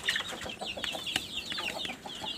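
Hens on a small farm cluck continuously in overlapping, chattering calls, close and fairly loud, with no talk over them.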